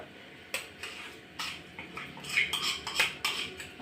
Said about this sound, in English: now I'm going to mix it together with the mashed potatoes